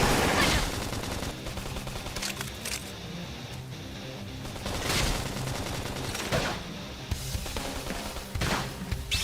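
Gunfire in the Xenoblade Chronicles X battle, dense rapid bursts of shots and impacts layered over busy music and effects throughout.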